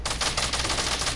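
Rapid automatic SMG fire in a shooter video game, a dense continuous burst of crackling shots lasting over a second, loud and close, with no talk.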